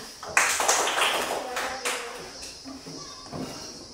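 Children at an elementary school environmental education activity clapping hands in a few scattered bursts, moderately close, with faint voices in the background.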